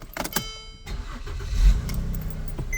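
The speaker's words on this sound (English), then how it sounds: "as you come here, you start the car." A 2008-2014 Mercedes W204 C300 starts up: a few sharp clicks, a brief pause, then the engine cranks and catches into a low, steady idle, heard close up with no talking.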